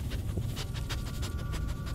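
A dog in the video game Blair Witch pants steadily in quick, rhythmic breaths, close and moderately loud against a low background hum.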